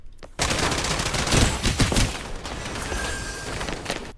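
Rapid bursts of gunfire in the shooter video game Strinova, loud and dense, crackling continuously for several seconds after a brief quiet start.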